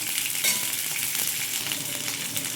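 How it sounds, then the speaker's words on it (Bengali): Cauliflower frying in a pan with ginger and green chili makes a close, steady sizzle and crackle that runs unbroken throughout, with no talking. "ফুলকপিগুলো একটু ভেজে নেবো"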